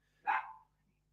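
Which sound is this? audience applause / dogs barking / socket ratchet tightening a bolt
dogs barking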